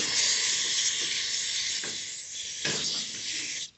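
Carb cleaner sprays in a long continuous hiss into the recoil starter of an Echo PB2520 blower, close and steady, with a couple of brief knocks and a short second burst near the end.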